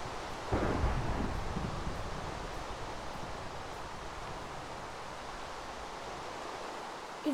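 A deep rumble of Minecraft video game thunder from nearby lightning breaks out and rolls on as a long, noisy wash, fading slowly with no voices over it.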